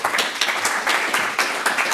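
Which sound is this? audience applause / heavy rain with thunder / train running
audience applause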